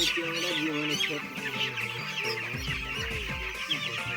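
Broiler chicks on a poultry farm cluck and cheep repeatedly during vaccination, a busy, close chorus of overlapping bird calls with faint background voices.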